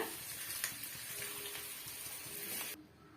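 Onion masala sizzling and frying in a pan while being lightly stirred, a steady close hiss with soft scraping, for a Tamil egg masala bonda, stopping abruptly near the end.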